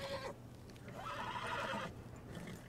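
A horse whinnies in Red Dead Online, one drawn-out neigh rising and falling clearly over a low ambient rumble, with faint hoof-like noises around it.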